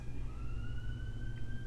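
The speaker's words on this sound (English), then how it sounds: "There's the police. You hear the siren." A distant police siren wails in a steady, slowly rising tone over low background rumble.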